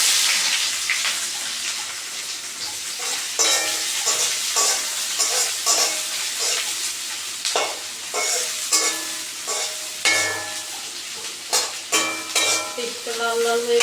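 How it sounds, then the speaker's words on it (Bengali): Sliced onions fry in hot oil for a Bengali tangra fish curry, giving a loud continuous sizzle broken by repeated scraping and clattering stirs of a spoon in the pan. "আর দিয়ে দিব পেঁয়াজ"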